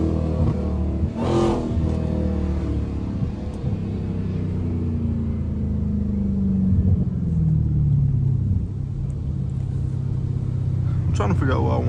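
A Dodge Challenger SRT Hellcat's engine growls and revs from inside the car in hurricane weather, a deep continuous rumble that swells and falls, with a rising rev near the middle under the steady noise of wind and rain.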